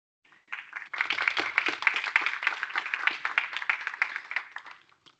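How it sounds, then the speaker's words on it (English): Applause after a presentation at a carbon dioxide removal conference session, a small group of hands clapping briskly and fairly close for about four seconds, starting thin, filling out, then tapering away to a last stray clap. "I hope you heard the applause"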